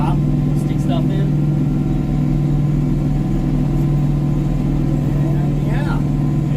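A tractor runs steadily while powering a WoodMaxx FM-78H offset flail mower, cutting a small trail beside pine trees; a loud, constant engine drone continues throughout, with brief faint higher sounds at moments.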